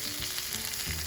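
Boneless pork chops with butter sizzling on a Blackstone griddle, making a dense, steady hiss throughout, close and loud, with no voices.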